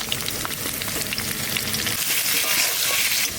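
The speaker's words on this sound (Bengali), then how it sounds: "ওই তেলের মধ্যে আলু কটা ভেজে দেবো" Potato pieces fry in hot oil for a Bengali magur fish curry, giving a loud, constant sizzle with crackling spatter that swells slightly toward the end, with no voices over it.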